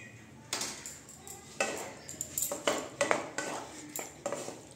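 A metal spoon scrapes and clinks against a pan while stirring aloo dhaniya, a Bengali potato dish with ghee and garam masala, in close, irregular bursts with no talking.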